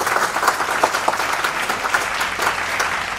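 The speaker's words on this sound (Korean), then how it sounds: "여러분 큰 박수로 맞아주시기 바랍니다" Full audience applause welcoming a textile company CEO to the stage at a business case presentation, a continuous, even clatter of many hands at moderate distance.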